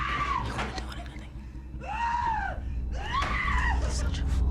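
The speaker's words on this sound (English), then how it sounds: "Oh, now you want to scream." A person screams in drawn-out, wavering cries, three anguished wails rising and falling one after another, close and loud over a rumbling background.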